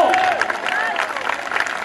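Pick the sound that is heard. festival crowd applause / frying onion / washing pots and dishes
festival crowd applause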